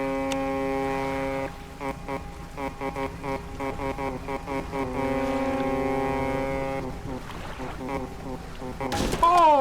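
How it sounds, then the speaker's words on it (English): A ship's foghorn sounds in the Dredge video game, its deep steady blast running under a busy game soundscape and ending in a sharp, loud burst. "Let's try the foghorn."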